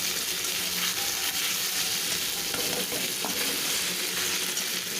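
Onions frying in a pan with ginger-garlic paste and green chillies, a steady, close sizzle with stirring scrapes running continuously, no voices.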